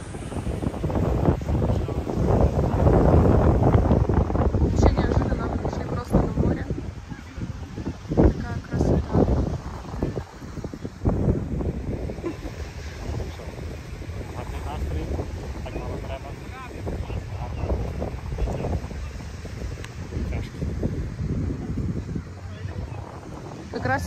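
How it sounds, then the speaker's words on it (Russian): Strong wind rushes across a Baltic Sea beach and buffets the microphone with steady low roaring gusts, while people talk through much of it. "Сегодня ветреная погода."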